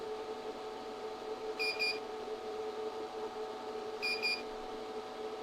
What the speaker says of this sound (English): The chocolate has now reached its melt point, indicated by a series of loud beeps